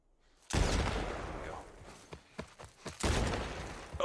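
Blind-fired gunshots in The Last of Us PC Remastered ring out in two sharp, loud bursts during a fight against a horde, separated by scattered smaller impacts and footsteps.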